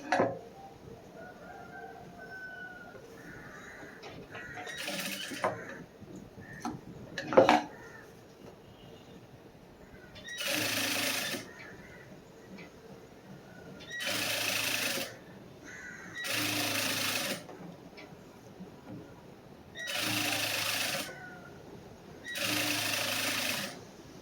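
A sewing machine stitching a folded two-inch blouse hem runs in several short loud bursts of rapid whirring, separated by quiet pauses with faint handling clicks and rustling of fabric.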